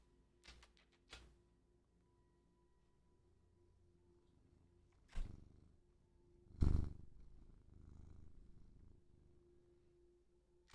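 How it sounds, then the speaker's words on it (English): A cat purrs quietly in a home, a soft low continuous rumble in the background, broken by a few sharp knocks or taps nearby. "Hello, cat."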